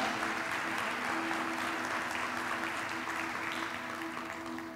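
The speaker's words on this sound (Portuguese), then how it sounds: "Aplaude Ele." A church congregation applauding: a steady wash of clapping from many hands, moderately distant and fairly quiet, holding throughout and tapering slightly at the end.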